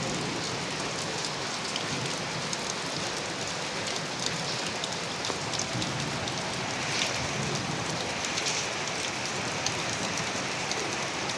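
Heavy rain pours down in rural Faridpur, a dense, continuous hiss of drops drumming on surfaces, steady and loud with no voices.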